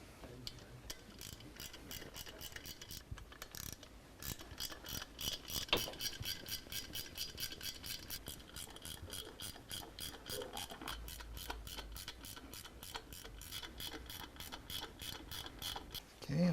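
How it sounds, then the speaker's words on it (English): A torque wrench ratchets in steady, rapid clicks while tightening engine cover bolts on a motorcycle fitted with an S&S performance kit, close and quiet, with brief pauses between runs of clicks. "Okay, I'll torque them up."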